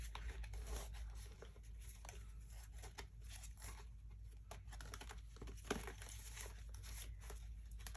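Angel Tarot cards being shuffled by hand, soft papery riffles and taps in an irregular patter, quiet and close, with a low steady hum underneath and no speech.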